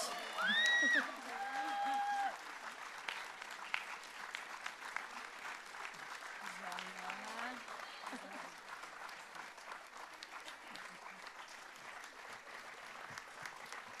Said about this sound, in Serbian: molim vas, veliki aplauz